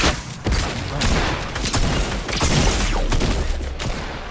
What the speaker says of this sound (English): You're shooting someone, just killed one.